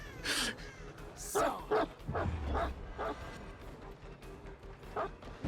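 A dog barks and yelps in the horror game Dead by Daylight, several sharp yips spread across the scene amid game effects and a low rumble.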